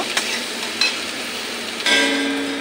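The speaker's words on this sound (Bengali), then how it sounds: "একটু ভাজা ভাজা করে নেব।" Onion, green chili and garlic frying in a pan for a chutney, a steady soft sizzle with a few sharp clinks of a spoon stirring against the pan.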